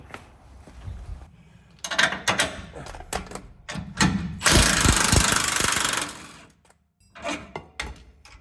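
A factory track bar comes off a Jeep Gladiator with a 21mm socket and wrench, heard as close bursts of ratcheting clicks, metallic knocks and clanks with short pauses between them and one longer grinding stretch in the middle.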